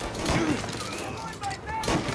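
Bursts of gunfire in the video game Mafia Definitive Edition, rapid crackling shots in two clusters at the start and end, mixed with voices shouting during the fight.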